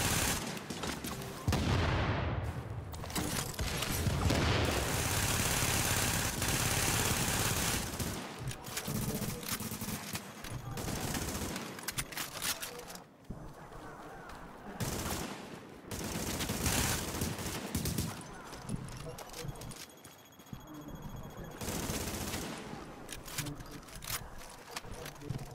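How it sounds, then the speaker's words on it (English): Shotgun blasts and other gunfire from the video game Tomato Team: Rogue Chronicles come in loud, dense bursts across the stretch, with short pauses and heavy booms between volleys. "He can't shoot me with a shotgun from that distance."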